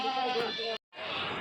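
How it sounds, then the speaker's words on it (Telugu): Male goats bleat at a busy weekly livestock market in Kadiri, with loud, wavering calls that break off briefly and then resume, mixed with people talking nearby. "మేకపోతులు బాగున్నాయి"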